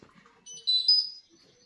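A washing machine inside a camper gives a short, clear electronic beep after a button is pressed, a single bright tone lasting under a second against near silence.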